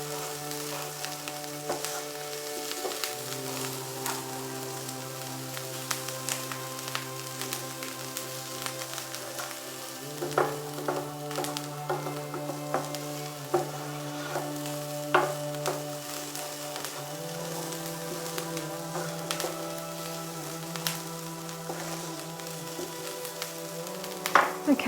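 Onions sizzle in a pan for a vegan cheesy spanakopita filling, a steady even hiss with scattered small pops and crackles running throughout, with no voices.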